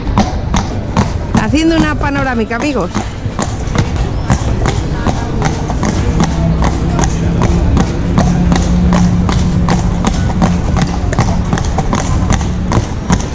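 Horse hooves on the streets of Seville as a horse pulls a tourist carriage, steady rhythmic clip-clops close by throughout, with people talking over them.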